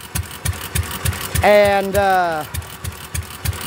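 A Fairbanks Morse 208 oilfield engine running a little fast, its evenly spaced heavy exhaust thumps repeating close and loud, briefly under a man's drawn-out spoken word.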